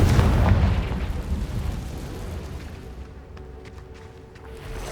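A Confringo fire spell blasts in Hogwarts Legacy, a loud booming explosion at the start that rumbles and fades over several seconds into quieter game ambience.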